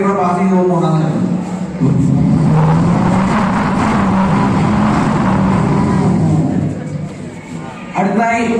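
A performer at a school arts festival mimicry act voices a sports car passing on the road, a loud sustained engine roar that swells through the middle and fades, with brief vocal sounds at the start and end.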